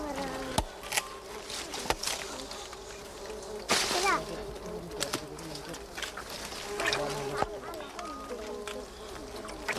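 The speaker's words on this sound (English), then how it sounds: "Luckily, these bees don't sting." Stingless bees buzz around a dead log loaded with honey, a busy insect drone with scattered sharp knocks and clatter, while people talk nearby throughout.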